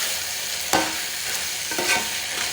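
Spicy fish curry being stirred in a pan, a steady low sizzle throughout with a few scraping strokes of the spoon, close and alone without talk.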